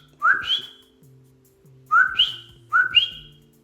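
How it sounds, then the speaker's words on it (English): Male Coqui frog singing its two-note call three times at steady intervals: a short low note followed by a higher rising chirp, clear and fairly close, with a faint low hum beneath. "The Coqui gets its name from the song that the male Coqui frogs sing."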